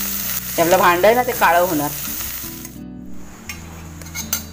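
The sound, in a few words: okra frying and sizzling in an iron kadhai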